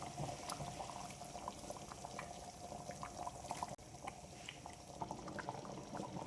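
Green chilli chicken gravy simmers in a pot with a steady, dense bubbling and popping, close and fairly quiet, with no voices.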